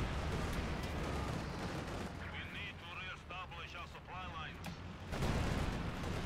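Rapid bursts of strafing gunfire from a Stuka dive bomber attack in a World War II strategy video game, crackling over a dense rumble of battle noise with repeated sharp reports.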